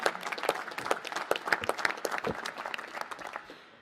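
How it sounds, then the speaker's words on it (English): A crowd at a National Space Council meeting in an aerospace museum hall applauds the Department of Energy, with distinct sharp claps in a lively patter that thins and fades out toward the end. "Give a round of applause to the Department of Energy"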